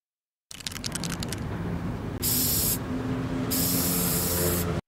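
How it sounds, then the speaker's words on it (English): A spray paint can hisses out graffiti in two or three long, loud bursts, preceded by a rattle of the can, close up and with no talking. "Here, I'll get the spray paint for you."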